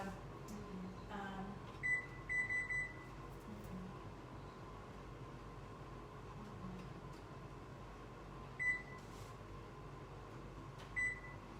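Several short electronic beeps from a microwave control panel while setting its kitchen timer, in small clusters, over a quiet room hum.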